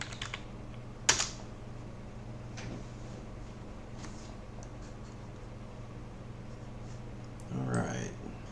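Keys clatter on a computer keyboard as a command is entered, a sharp keystroke burst standing out early and scattered lighter taps following over steady room hum, with a brief muffled rustle near the end.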